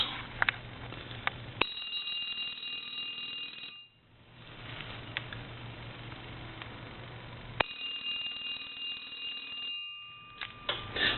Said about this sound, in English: We'll let that ring a couple times.